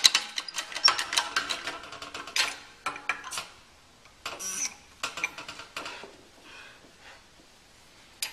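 A Harbor Freight 20-ton shop press is worked by hand in a workshop, giving quiet, irregular metallic clicks and ratcheting clanks in short bursts separated by pauses.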